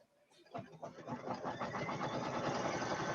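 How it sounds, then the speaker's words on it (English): A sewing machine runs the final stitch around a Halloween mug rug, starting up and then whirring steadily and fairly quickly at close range, with no one talking. "And now I'm going to run my last stitch."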